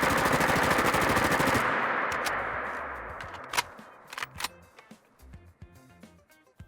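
A G36 assault rifle fires in the Fallout 4 video game: a fast, loud automatic burst lasting over a second, then a fading tail and a few scattered clicks and clacks of handling.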